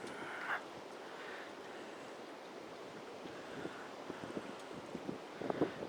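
Strong, gusting wind buffets the microphone outdoors, a continuous roaring rush with surging peaks and sharper bursts of flapping or rattling toward the end, no speech.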